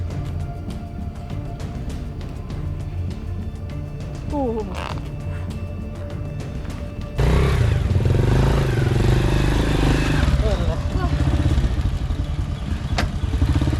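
A motorcycle engine on a steep rocky village track in Indonesia, idling unevenly at first and then revving louder partway through, with scattered clatter and voices in the background.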